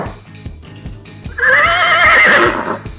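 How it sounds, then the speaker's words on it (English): A horse gives one loud, high whinny of about a second that wavers and falls, after softer snorts and faint hoof thuds. "That is the sound of the horse."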